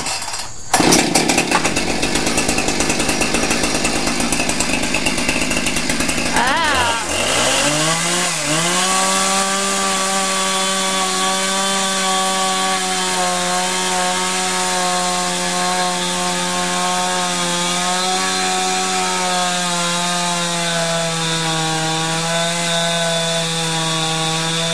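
A 56cc Husqvarna chainsaw sputters and revs hard at first, then drops into a loud, steady, buzzing idle that holds for the rest of the stretch, close up with no talk.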